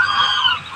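A goose at an animal market gives a single loud, nasal honk close by, lasting under a second.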